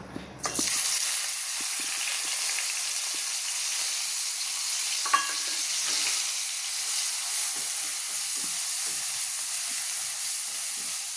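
Onions hit hot oil in a kadai while cauliflower Manchurian is being cooked: a sudden onset gives way to a steady, loud, continuous sizzle with faint stirring, close up, with no talking.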